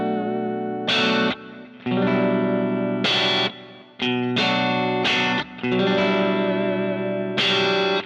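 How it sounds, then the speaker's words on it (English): Electric guitar through a Kemper amp profile in fourth pickup position, with a bright, glassy Strat-style single-coil tone, several strummed chords ringing out in turn with short gaps, washed in chorus and reverb. "if I go to 4th position, we get the nice stratty sound"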